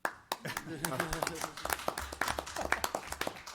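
Scattered applause from an audience at a town meeting on clean energy, several pairs of hands clapping unevenly at moderate volume while a person speaks over it.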